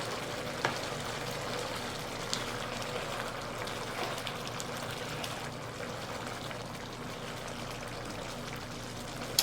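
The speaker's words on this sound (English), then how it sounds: "Right now, I'm just letting the vegetables cook." Vegetables cook in melted butter for a seafood sauce for a king crab boil, giving a soft, steady sizzle and crackle throughout with a few faint clicks and no speech.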